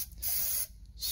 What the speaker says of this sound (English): we'll use starting fluid to see if we can get the carburetor to go